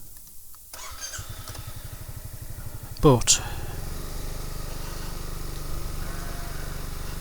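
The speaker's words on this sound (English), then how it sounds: "It's like a clutch squeal." A Honda ADV 350 scooter with about 7,000 km on it and a clutch fault idles, then revs on take-up, and a brief high squeal from the clutch sweeps upward partway through. Someone speaks briefly over the steady engine drone.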